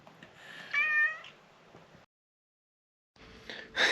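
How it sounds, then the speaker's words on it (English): A cat in a cabin on the Isle of Man meows twice, first with a clear drawn-out call, then with a second meow after a brief silence. Both are close and fairly distinct. "Yes, there's a kitty."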